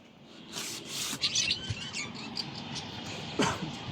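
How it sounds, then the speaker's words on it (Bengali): Pet pigeons kept in a small home coop, giving short bird calls and rustling flutters close by, with a sharper call near the end; no one speaks. "এই যে আমাদের কবুতর, ওই যে দুইটা, তারপর নিচে চারটা, একটা ঘরের ভিতরে"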